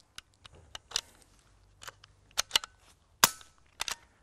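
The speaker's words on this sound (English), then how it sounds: "I'm then going to fire the gun" A BSA Super 10 air rifle fired repeatedly, giving a series of sharp, close, dry cracks at irregular intervals with mechanical clicks between them and no voices.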